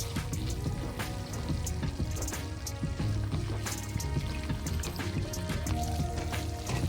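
Rinse water from a blender jar is poured into a pan of palak chingri (spinach and prawn curry), making a steady, close splashing pour with bubbling that continues throughout.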